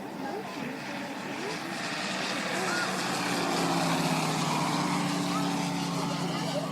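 Buzzing small electric motors drone overhead, slowly growing louder as model planes make a low pass, with faint voices and outdoor noise underneath.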